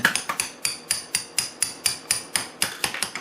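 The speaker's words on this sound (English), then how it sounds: "the track pins, I have a punch here and a hammer" Steady metallic hammer blows striking a punch to knock out track pins on a 1/14 scale RC4WD DXR2 hydraulic bulldozer, about five per second in an even rhythm, close and sharp, with no voices.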